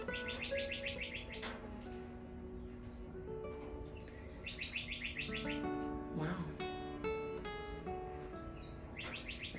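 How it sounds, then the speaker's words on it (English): Morning birdsong outdoors: repeated bright chirping phrases from several birds, fairly close and clear, recurring through the stretch, with a person briefly exclaiming and steady background sound beneath. "The birds are singing for me this morning."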